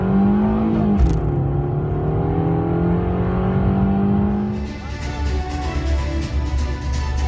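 A 2025 Subaru Forester 2.5i Touring drives along with a steady engine hum and tire roar, the tone shifting as it accelerates, continuous and fairly close with no talking.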